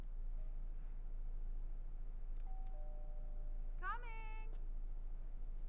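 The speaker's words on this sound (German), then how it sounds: "Ding dong." In-game doorbell from Grand Theft Auto IV gives a short two-tone chime, clear and fairly close, over a steady low background hum, preceded by a faint sustained electronic tone.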